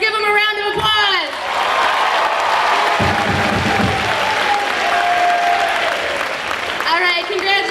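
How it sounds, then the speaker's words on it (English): Audience applause and cheering fill a school assembly hall, a steady crowd roar of clapping with voices over it, rising after an opening announcement and continuing to the end. "Let's give them a round of applause."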